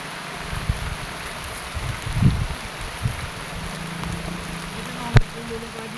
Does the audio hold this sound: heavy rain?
yes